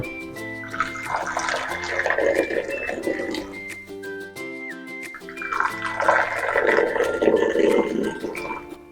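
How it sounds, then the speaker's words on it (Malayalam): Freshly made tea is poured into two cups in two steady splashing streams, each a few seconds long with a short break between them. The pouring sounds close and fairly loud with no voices. "നമുക്ക് 2 കപ്പിലേക്ക് ഒഴിക്കാം"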